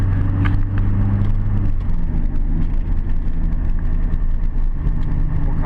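A used Duramax diesel pickup truck drives along toward the highway, its steady low engine drone and road rumble continuous and fairly loud throughout, with no talking.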